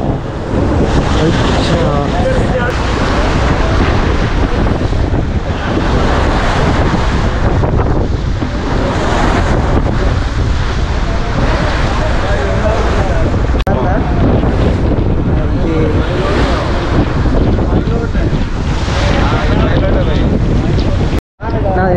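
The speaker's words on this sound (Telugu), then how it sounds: "గాలి ఫుల్ వస్తుంది, అందుకని అలలు ఎక్కువైపోయినాయి" Strong wind buffets the microphone while high waves slosh and slap around a small boat at sea off Rameswaram in rain, a loud continuous roar with people talking over it throughout.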